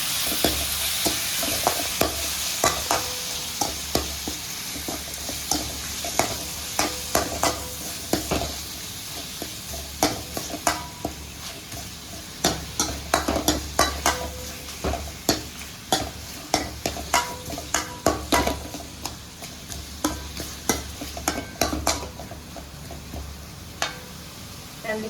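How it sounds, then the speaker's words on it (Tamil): Mutton fat with a little turmeric sizzles steadily in hot oil while a utensil scrapes and clatters against the pan in frequent irregular strokes, with no talking. "அப்படியே நல்லா வதக்கி விடுங்க எண்ணெயில்"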